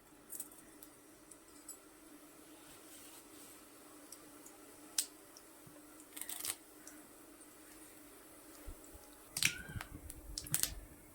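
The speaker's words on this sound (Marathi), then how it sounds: "मोहरी तडतड झाली की जिरे घालायचे आहेत" Mustard seeds crackling in hot oil in a wok for a besan dumpling curry, scattered small pops and sharp ticks over a faint sizzle, with busier bursts of spitting near the end.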